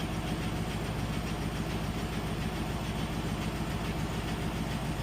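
A VW Beetle engine runs continuously during carburetor adjustment, a steady droning idle with a fine regular pulse and hiss, constant loudness throughout, no talking.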